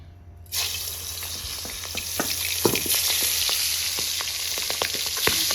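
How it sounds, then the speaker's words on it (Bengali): Salted, turmeric-rubbed jiol fish drop into hot oil and fry with a loud, steady sizzle that starts suddenly, with sharp pops and spatters crackling throughout and no voices. "ও মা কি ফুটা ফুটতেছে।"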